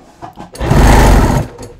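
A sewing machine top stitching a folded double layer of leather scrap runs in one loud, close burst of under a second, preceded by light handling clicks.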